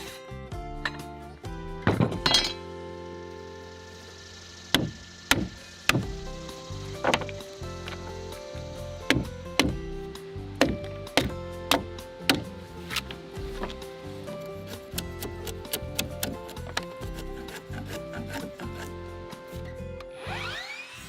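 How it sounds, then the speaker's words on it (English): A hammer strikes a chisel into a wooden post again and again, cutting a joint, sharp close knocks in an irregular rhythm, with scraping and rubbing between the blows. "Then I use the hammer to knock out most of the material and then clean up the joint with a sharp chisel"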